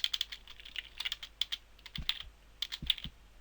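Keystrokes on a computer keyboard while writing Java code in the NetBeans editor, a quick irregular run of light, close clicks with short pauses and a few heavier taps, no talking.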